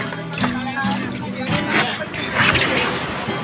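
Boats out on the water off Batangas give a continuous engine and water rush throughout, with voices talking over the noise.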